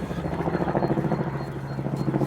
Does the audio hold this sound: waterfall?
no